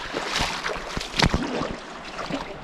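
River water rushes and gurgles close by, a loud broadband wash broken by scattered splashes and knocks, with no voices.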